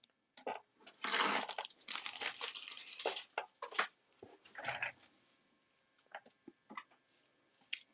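A plastic bag crinkles and crunches around a loose Star Wars action figure, close-up bursts of rustling in irregular clusters with short pauses, no talking.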